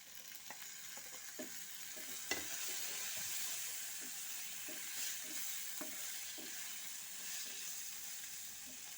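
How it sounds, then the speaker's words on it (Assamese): Small mowa fish fry in hot oil over a lowered gas flame, a quiet, even sizzle with soft hiss running throughout, punctuated by faint scrapes and taps of stirring. "এইখিনি সময়তে মই গেছটো অলপ কমাই দি মাছখিনি অলপ লাৰি আছোঁ তেলত"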